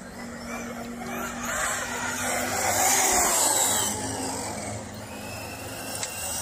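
A Traxxas Sledge 6S RC monster truck runs laps on a night track, its electric motor whining steadily with tire scrub and skids, sustained and fairly close throughout.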